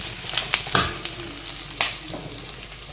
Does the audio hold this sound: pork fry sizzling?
yes